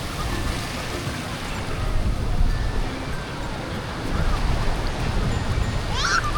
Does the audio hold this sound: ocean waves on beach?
yes